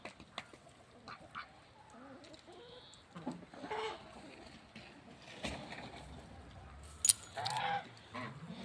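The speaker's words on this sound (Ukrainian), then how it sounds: "Тут кури вже сюди прийшли. Ходять тут кругом." Hens cluck and murmur softly at close range, with scattered rustling and a few sharper calls mixed in.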